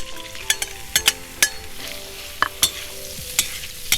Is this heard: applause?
no